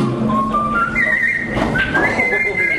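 Wavering whistled notes slide up and down over background noise and a low murmur, bright and fairly close.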